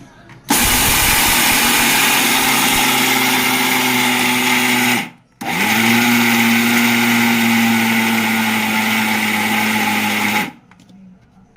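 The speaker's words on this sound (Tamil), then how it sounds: "இப்போ நம்ம போட்டு அதை பொடி பண்ணிக்கலாம்" A kitchen mixer grinder powders chana dal with two cardamom pods in two loud, steady whirring runs of about five seconds each, with a brief pause between them.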